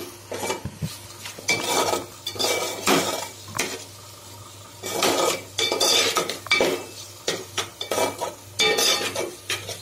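A spatula stirring mushroom curry in a metal pan, scraping and clinking in repeated bursts with a faint sizzle underneath, close and fairly loud.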